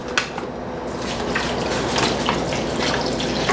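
Chicken broth poured from a container into a soup pot in a home kitchen, a steady splashing liquid stream with small drips and gurgles, close and continuous with no talk.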